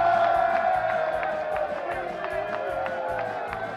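A crowd at the Tour de Limbourg cycling event in Steinerbos claps and cheers, with rhythmic clapping and whoops under a sustained tonal line, the noise easing slightly toward the end.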